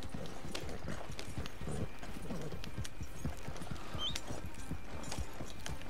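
Horse hooves clip-clop steadily at a walking pace in Red Dead Online, close and continuous throughout under faint ambient game sound, with no talking.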